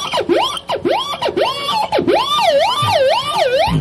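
A voice imitates a police siren, starting with rising whoops and then switching to a fast, wavering wail, loud and up close.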